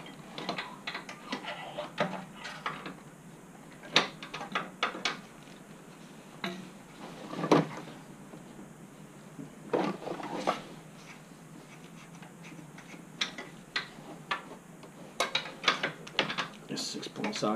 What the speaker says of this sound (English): This 6-point socket's not going to let me get the leverage I need